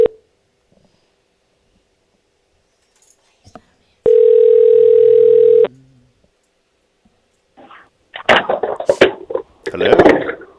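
A single ringback tone sounds on an outgoing phone call from a radio studio, one steady electronic buzz lasting about a second and a half. After silence, clicks and voices follow.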